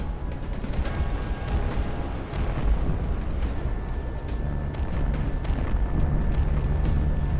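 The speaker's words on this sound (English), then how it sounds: "Those explosions sound a little bit mean." Heavy booms and rumbling blasts pile up in a dense, continuous barrage of video game battle noise, with sharper impacts breaking through now and then.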